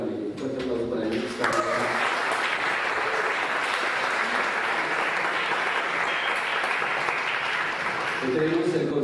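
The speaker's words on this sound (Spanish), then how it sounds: "Un fuerte aplauso para ellos." A crowd applauds continuously, loud and dense, while a voice speaks over the clapping at the beginning and again at the end.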